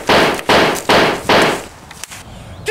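Gunfire in a Vimy Ridge battle scene, four loud, close, evenly spaced blasts about half a second apart, each with a short roaring tail, then fainter scattered reports.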